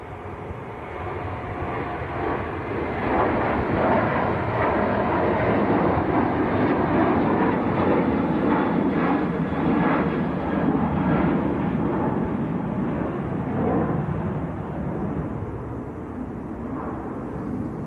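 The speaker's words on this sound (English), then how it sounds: "Taxiing very slowly." Airplane taxiing slowly at Manchester Airport on a windy day, a broad steady jet rumble and roar that holds strong for the whole stretch with a gentle rise and fall.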